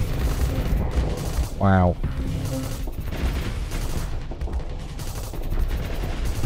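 Ship weapons in the space game Starsector (Nexerelin mod) unleashing steady rapid gunfire and impacts throughout, while a man gives a brief exclamation over the battle noise.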